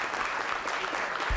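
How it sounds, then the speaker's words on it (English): A forum audience applauds candidates, a dense, steady round of clapping lasting the whole moment, with a soft thump near the end. "Let's give them a round of applause."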